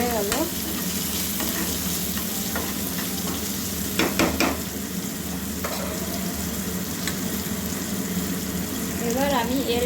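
Ingredients fry in oil while being stirred in a pan for sabudana khichdi, making a steady close sizzle with repeated scraping stir strokes, and a voice is briefly faintly audible in the background.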